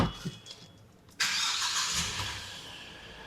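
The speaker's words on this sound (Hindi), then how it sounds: "गाड़ी को स्टार्ट कर लेता हूँ मैं हालांकि एक बार।" A Mahindra Thar 3-door 1.5 turbo diesel cranks and catches with a sudden burst, then settles into a close, steady clattering idle.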